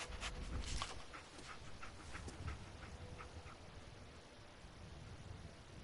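Dogmeat, the dog companion in Fallout 4, panting in quick rhythmic breaths that come in a burst and then fade, faint and close against low game ambience.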